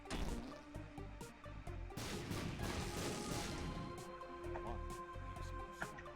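Rapid chains of explosions and thuds in The Binding of Isaac: Repentance, dense overlapping bursts over busy game music, a loud cluster in the middle followed by steady crackling blasts.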